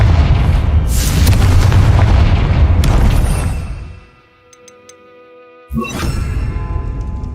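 Confringo blasting-spell explosions in the video game Hogwarts Legacy: a loud, sustained rumbling blast that fades away, then a second sharp burst after a short quiet gap.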